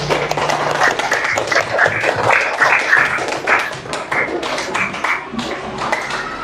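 Children in an elementary school classroom at SDN 131 Palembang clap together, a dense, lively burst of close hand claps lasting several seconds, with no talking over it.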